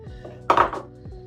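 A spoon or whisk knocks and scrapes against a bowl while vegan chocolate cake mix is stirred, one brief clattering scrape standing out among faint taps.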